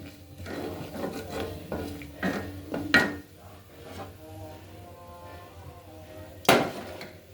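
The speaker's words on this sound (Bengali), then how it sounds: "নাড়তে হবে, নাড়াটা বন্ধ করা যাবে না" A spoon scrapes and clinks against a pot while a mixture of egg, milk, sugar and ghee with spices and cardamom is stirred, giving irregular knocks and rubbing sounds, fairly quiet and close.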